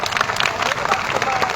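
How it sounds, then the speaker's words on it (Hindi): Crowd applause at an outdoor protest rally in Khivni, Dewas district, welcoming a speaker to the stage; dense, steady clapping fills the whole short stretch with no pause. "एक बार जोरदार तालियों से रामदेव भाई का स्वागत करें।"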